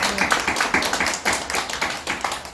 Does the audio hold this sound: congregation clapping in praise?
yes